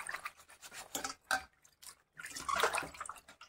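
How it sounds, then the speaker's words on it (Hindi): An ink-stained cloth is rinsed and rubbed in clean water, giving close splashing and sloshing in uneven bursts with short quiet gaps between them. "तो अब इसको हम साफ पानी से धो लेते हैंगे"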